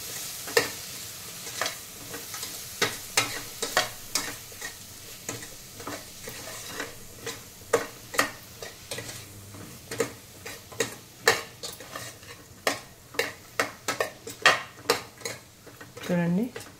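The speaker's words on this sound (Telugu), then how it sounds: "ఒక్కసారి కలుపుదాము." A spoon stirs ridge gourd masala curry, seasoned with chili powder and salt, in a pan. The strokes make irregular scraping clicks and knocks over a soft sizzle, with no voices.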